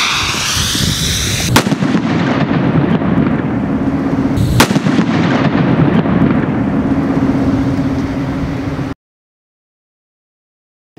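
Two sharp, loud firework bangs crack out a few seconds apart over steady windy rumble outdoors, then everything cuts to silence.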